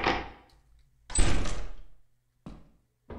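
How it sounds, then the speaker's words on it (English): In Lethal Company, a door is unlocked with a key, giving heavy mechanical clunks and a rumbling slide, then two shorter thuds; loud and close, with no voices. "use this key to unlock the door."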